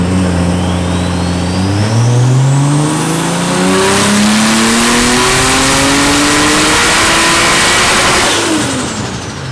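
A Toyota Chaser's turbocharged 2JZ engine revs hard through a high-boost pull, its loud rising drone climbing steadily in pitch through the gears with a brief dip at a shift, close and continuous with no talk over it.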